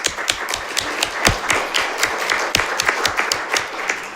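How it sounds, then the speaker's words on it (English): Sparse, uneven clapping from a modest audience after a panel debate on carbon markets and offsetting, individual hand claps distinct and irregular rather than a full ovation, fairly close and with no talk. "Thank you for clapping also."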